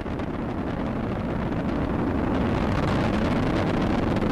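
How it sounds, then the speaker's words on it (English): Space Shuttle Discovery's engines roar during the STS-116 launch from Kennedy Space Center, a continuous dense, rumbling broadband thunder heard loud and distant with wind buffeting. "Frigate engines throttling back to 2/3 of the rate of thrust."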